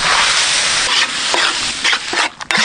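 Prawns fry in hot oil with a loud, continuous sizzle, stirred throughout so that scraping pulses break the hiss, all without any voice.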